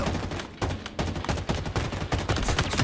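Gunfire in the video game Halo Infinite during online multiplayer: dense, loud, rapid shots fired in repeated bursts with short gaps, filling the whole stretch with no talk.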